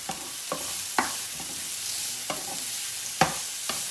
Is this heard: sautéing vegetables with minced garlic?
yes